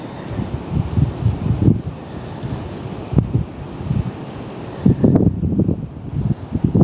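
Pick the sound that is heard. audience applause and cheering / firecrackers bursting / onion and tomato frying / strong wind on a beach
strong wind on a beach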